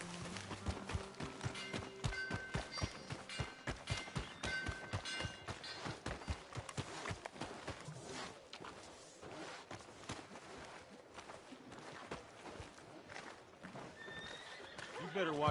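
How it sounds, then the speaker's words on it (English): A horse in Red Dead Redemption 2 whinnies and its hooves clop in a steady rhythm over the first half. The sound then thins into busier game noise, with speech heard throughout. "My horse!"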